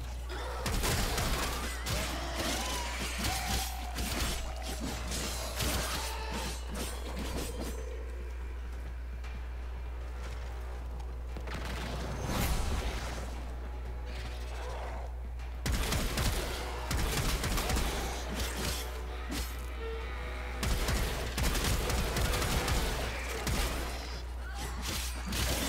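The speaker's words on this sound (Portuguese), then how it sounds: "essa arma que eu tô, ela tem dois tipos de disparo" Rapid weapon fire and impact bursts from the video game Warframe come in clusters separated by quieter stretches, over a constant low hum.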